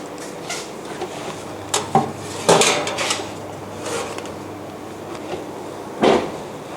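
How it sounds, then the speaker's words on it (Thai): A metal corn muffin pan comes out of the oven with a few sharp clanks and knocks of bakeware against the rack and counter, scattered over several seconds and heard up close. "ทีนี้เราจะนำมัฟฟินเนี่ยออกจากเตาแล้วค่ะ"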